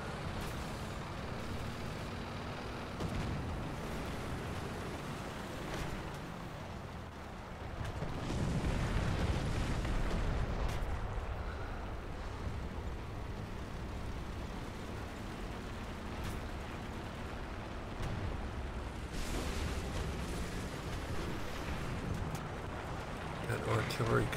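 Artillery shells from the War Thunder tank game land around a Japanese Chi-Nu II tier-3 medium tank. Two heavy rumbling booms stand out over a steady engine drone and continuous battle noise.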